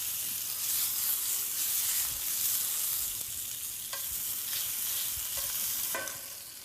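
Steaks searing in a hot pan give a steady, dense sizzle that holds loud and close throughout, with a few soft utensil taps near the end and no talking.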